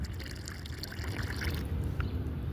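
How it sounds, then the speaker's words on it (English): Water is poured onto muddy ground outdoors, a steady close trickle and splash soaking into the mud, continuous and fairly loud throughout with no talking. "I'm going to soak the ground. I'm offering my ancestors water in the mud."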